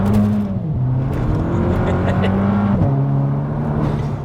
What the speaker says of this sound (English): Such a small turbo, as soon as it spools up straight away.